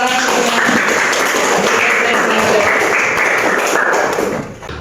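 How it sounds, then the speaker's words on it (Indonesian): Applause in a classroom, with dense, loud, continuous clapping from many hands filling the whole stretch and tapering slightly at the end. "Terima kasih tepuk tangan."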